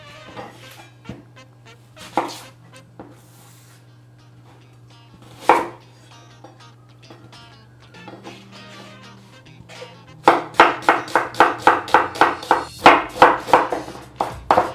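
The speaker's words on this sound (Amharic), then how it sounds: "ከዛም እንደዚህ ሽንኩርታችንን ከትፈን ከጨረስን በኋላ" Knife chopping onions on a board at home while cooking Ethiopian dirkosh nachos: scattered single cuts at first, then a rapid, loud run of evenly spaced chops near the end, with a low steady hum underneath.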